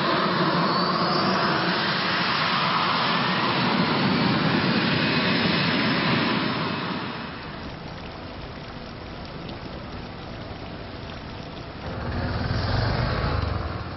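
Continuous roar of airplanes waiting to take off, a steady broadband engine drone that eases somewhat in the middle and swells again near the end, with no talk.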